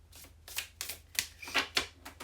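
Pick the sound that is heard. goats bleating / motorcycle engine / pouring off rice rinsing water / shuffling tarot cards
shuffling tarot cards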